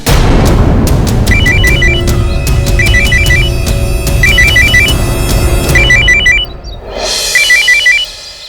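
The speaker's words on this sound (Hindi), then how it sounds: "मेरा फोन।" A mobile phone rings loudly with a repeating electronic ringtone melody in bursts, accompanied by dramatic booming music and a whoosh near the end.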